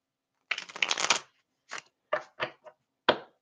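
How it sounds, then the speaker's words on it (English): Tarot cards shuffled by hand, a long crisp riffle followed by several short, sharp card-snapping bursts, close and clear with no talk. "get all these cards ready and shuffled up"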